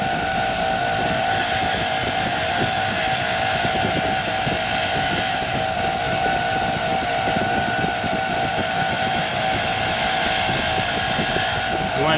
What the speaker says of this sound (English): you really should have your own dedicated tungsten actually grinder